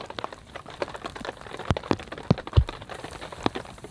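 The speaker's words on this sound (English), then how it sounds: "Out of that rain." Rain falls on a snowy winter campsite during a heavy storm, with a steady patter on the tent and scattered louder drops landing close by.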